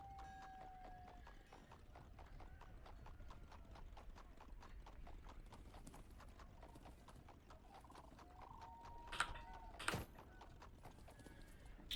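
Horse hooves in the video game Thronefall, a fast, even run of clip-clops close by, with a couple of short neighs and a sharp bright tone near the end, all fairly faint, no voices.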